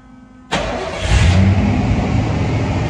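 Car engine fitted with Holley Sniper fuel injection cranks briefly and catches, settling into a loud, steady idle with a slight rise in revs, close by with no talking.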